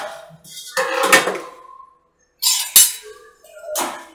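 The lid of a cooking pot of green pea pulao is opened after simmering. Sharp metallic clinks and scrapes of the lid come in separate bursts close by, with short silent gaps between them.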